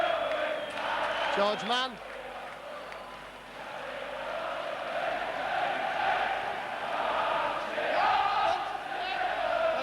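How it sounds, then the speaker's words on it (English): A packed stadium crowd roars throughout a 1994 Leeds versus St Helens Challenge Cup rugby league semi-final, a loud wash under a commentator's voice that swells and dips. "And the crowd going mad actually beside me."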